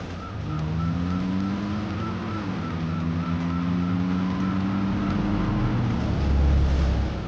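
A car engine hums steadily nearby as the vehicle slows and pulls over to the roadside, its tone shifting slightly and rising in a low rumble near the end.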